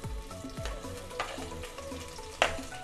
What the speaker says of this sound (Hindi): फ्राई कर लेंगे।